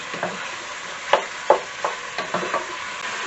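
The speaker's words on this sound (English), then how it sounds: "the lamb has been in the pan now for maybe a minute, and as you can see, it is already going brown" Lamb for traditional Welsh cawl being browned in a pot, with a faint, steady sizzle under several sharp scrapes and stirring knocks of a utensil against the pan.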